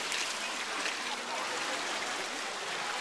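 Continuous splashing and trickling water from a fountain in Paris, fairly close and steady, with no voices over it.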